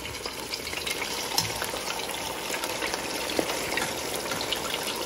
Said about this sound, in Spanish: Cogemos el pescado, el bebecito, y lo echamos a freír.